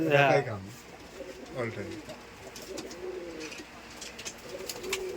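Giribaj pigeons cooing at a farm, a loud coo at the start, then softer repeated coos under nearby talk.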